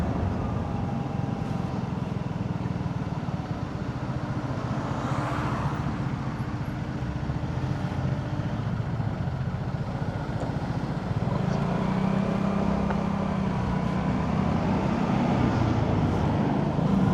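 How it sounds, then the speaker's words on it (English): Steady traffic noise from passing cars on a busy Monday lunchtime road, heard from a moving Vespa scooter, a continuous broad rumble of engines and wind with swells as vehicles go by. "Still plenty of cars around for a Monday and a lunchtime."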